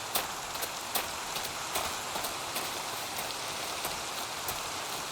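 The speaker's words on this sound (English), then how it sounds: "It's raining." Rain falls in the video game Minecraft, a steady patter of drops on surfaces with regular sharper taps, evenly loud and heard alone without voices.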